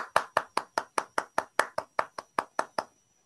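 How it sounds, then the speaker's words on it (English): Online audience clapping after a graph searching and protection talk, about fourteen sharp, evenly spaced claps in a quick steady rhythm, close and clear, like a single person applauding through a microphone, then stopping. "We can unmute ourselves to applaud if you like,"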